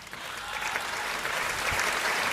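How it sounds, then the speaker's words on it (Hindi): Faint, thin audience clapping at a Hindi comic poetry gathering, a steady soft patter heard from a distance with no speech over it. "तालियां कमजोर है आपकी,"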